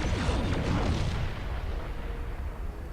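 A volley of photon torpedoes fires forward from a starship in the space combat game Starfleet Command: Orion Pirates, a loud, dense rumbling barrage of booms with blasts overlapping, strongest at the start and then sustaining steadily without voices.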